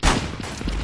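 Gunfire from the shooting game Global Strike, a quick burst of shots blurring together into a short, dense rattle that stays close and fairly loud through the clip.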